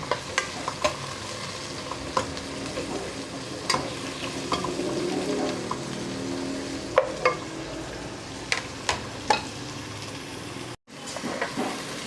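Shrimp and anchovies sauté with garlic, onion and tomato in a pan for Filipino monggo, a steady close sizzle broken by repeated clacks of a stirring utensil, with no talk.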